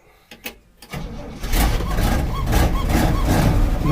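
A 1960 Chevy engine cold-starting after sitting for three weeks: a brief burst of cranking, then it catches and settles into a loud, steady, close-up running roar.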